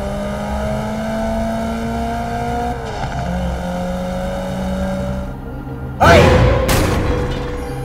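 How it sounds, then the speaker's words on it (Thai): A car engine revs hard and speeds along the road, a steady drone rising and falling in pitch, ending in a loud rushing burst as it races past close by. "อุบัติเหตุเกิดขึ้นได้เสมอถ้ายังขับรถเร็วแบบนี้และยังขับเลนซ้ายอีกด้วย"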